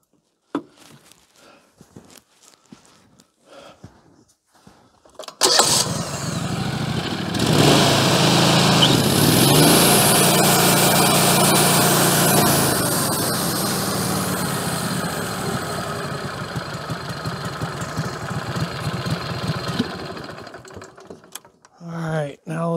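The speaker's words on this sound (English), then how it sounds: "We're gonna fire it up real quick, spin the blade" A Woodmizer LT15 Go portable sawmill in snowy winter conditions starts up after quiet handling noises, its engine and spinning band blade making a loud, steady whir for about fifteen seconds before shutting down.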